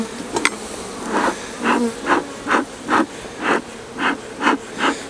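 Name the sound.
honey bees buzzing after being shaken off a frame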